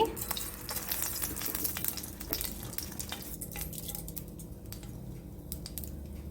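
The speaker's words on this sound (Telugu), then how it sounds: "నూనె కాగుతున్న టైంలో ముందు మనం ఆవాలు వేసుకోవాలి" Mustard seeds tossed into hot oil with dried chillies and lentils nearby, giving a dense crackle of tiny pops and ticks over a low sizzle, near and fairly quiet, busier at first and thinning later.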